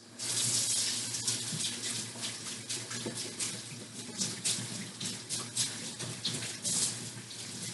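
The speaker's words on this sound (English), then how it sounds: "now we're about to wash our hands" Water runs from a tap into a sink for hand washing after baking biscuits, a steady close splashing gush with no talking.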